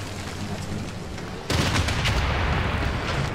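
Artillery bombarding a city in the strategy game Civilization 6: a sudden loud burst of rumbling, crackling gunfire and explosions that starts partway through and keeps going over a steady game background.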